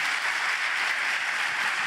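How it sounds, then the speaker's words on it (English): Audience applause at a Java developer conference opening, a dense steady wash of many hands clapping, loud and continuous throughout with no talk over it. "there's your applause for our neighboring jerks"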